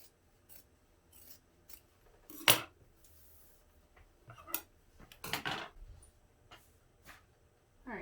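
Scissors snip and trim fabric while sewing a zipper pouch, giving sharp, close cuts spaced irregularly with quiet handling rustles between, no talk.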